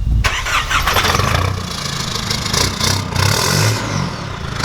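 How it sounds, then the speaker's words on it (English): A 3-litre Nissan Patrol engine with a straight-through 3-inch turbo exhaust cranks and fires up, then idles with a loud, rumbling, rough exhaust note and a few blips of revving. "Let's get a quick start up of a, is it straight through turbo exhaust?"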